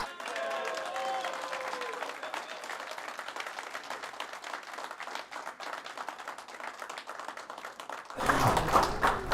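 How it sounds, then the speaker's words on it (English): A crowd applauds after the final of the 2024 USBA national boxing championships, a dense, steady patter of clapping from a moderately distant audience that swells into a louder, rougher burst near the end. "Pedro gets a round of applause"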